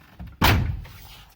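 A Ford Transit van door shuts with a single solid thump, close and fairly loud, its heavy low thud fading quickly into quiet.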